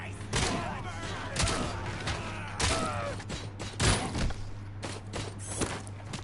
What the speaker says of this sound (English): brutality with the shotgun